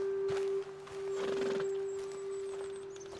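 A horse in the video game Red Dead Redemption 2 whinnies and snorts briefly over a steady hum, with a few soft hoof sounds; no talking.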